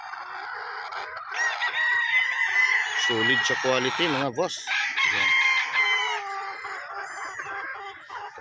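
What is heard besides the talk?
rooster crowing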